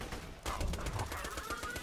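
The Bitch submachine gun in Borderlands 2 fires a rapid, fairly loud burst of automatic shots over game background sound.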